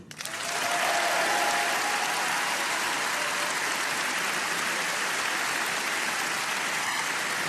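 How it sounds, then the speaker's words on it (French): Sustained applause from a large crowd at a political rally fills the space, a dense, loud, even roar of clapping that swells quickly and holds steady without letting up. "Je veux que nous vous applaudissions."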